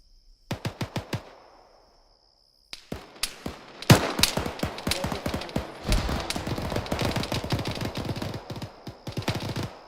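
Machine gun fire from the ArmA 3 military shooter in a squad training mission rattles in short bursts, then long sustained volleys after a brief pause, fairly faint and distant with no talk over it.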